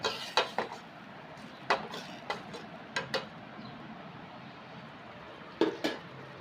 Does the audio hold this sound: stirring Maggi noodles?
yes